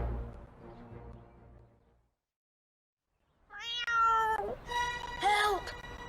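A cartoon cat meows in a series of loud, rising and falling cries after a brief silence, following a stretch of speech and background music.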